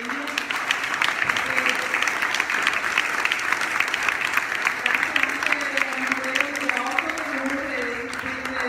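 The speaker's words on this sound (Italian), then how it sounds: "grazie ancora ai relatori e vi chiedo un applauso, un sostegno." Sustained audience applause for speakers at an Italian seminar on the Superbonus 110 tax incentive, steady dense clapping throughout while a voice speaks over it.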